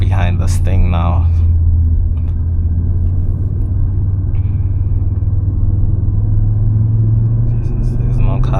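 A 2025 Audi RS3 facelift with a 400 hp engine and seven-speed S tronic gearbox cruises on the road, its deep, steady engine rumble and road drone loud and constant from inside the car, with brief talk near the start.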